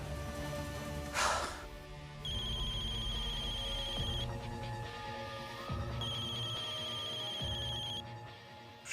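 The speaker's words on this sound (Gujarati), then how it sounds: "શૌર્યનો ફોન? એ પણ આટલી મોડી રાત્રે?" A phone rings late at night in two electronic trilling bursts, moderately loud over a steady background score.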